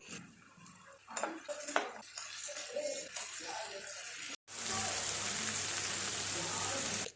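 Chopped tomatoes sizzle and sputter in a hot pan for a spicy squid fry, a steady broadband frying hiss that swells loud and constant in the second half after quieter, clattering stirring sounds at the start.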